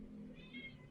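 A pet cat meows once, a drawn-out mid-pitched cry heard clearly indoors over a low steady room hum.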